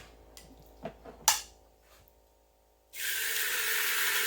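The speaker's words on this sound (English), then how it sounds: "I'm going to take a little Pam. Pure canola oil." Pam pure canola oil cooking spray hisses out of the can in a steady continuous burst after a few faint clicks and handling noises.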